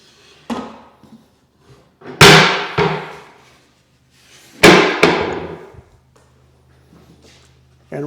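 Legs on a rolling table saw stand are folded up, giving a few loud metallic clanks and thuds spaced a second or two apart, close by, with quieter rattles between.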